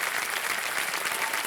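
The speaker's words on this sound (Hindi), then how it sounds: "तालियां बजाएं" A studio audience on the quiz show Kaun Banega Crorepati bursts into thick, continuous applause, many hands clapping loudly and evenly for a brief moment without any voices.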